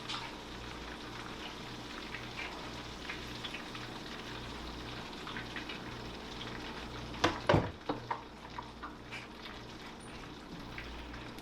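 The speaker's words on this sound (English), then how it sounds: "get some of the cod in right now. Get that frying up." Steady sizzling of cod fillets frying in a pan, with a few sharp clatters and pops partway through; no talking.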